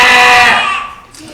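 A person imitates a sheep with a loud, wavering bleat that fades out over about a second, performed alone as part of an animal-impression routine.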